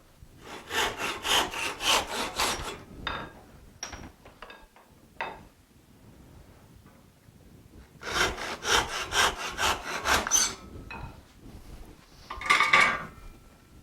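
Handsaw cutting 3/4-inch oak dowel into 4-inch lengths: two loud bursts of rapid, rhythmic back-and-forth strokes, separated by a quieter pause with a few light knocks, then a short final flurry.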